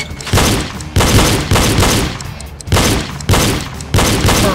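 Loud, close gunfire rings out in the shooting game Reload as targets are hit, arriving as a series of heavy booming shots spaced roughly every half second to second, each trailing off into reverberant rumble.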